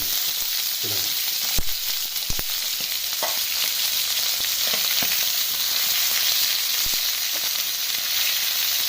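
Chicken liver frying in hot oil with whole cumin, a loud continuous crackling sizzle broken by sharp pops and spatters, close and without speech.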